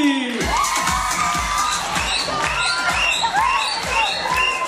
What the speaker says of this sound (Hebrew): הכפיים האלה בטח לא בשבילי